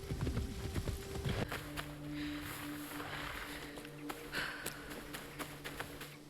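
Horse hooves clip-clop at a steady walking pace in Assassin's Creed Shadows, fairly quiet and mixed with sustained in-game music tones and ambience.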